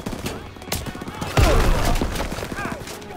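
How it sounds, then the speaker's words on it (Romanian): Machine guns fire in a Call of Duty battle, rapid bursts of gunfire crackling throughout with a heavy thudding blast partway through, chaotic and loud with voices shouting beneath. "MGs are tearing us up!"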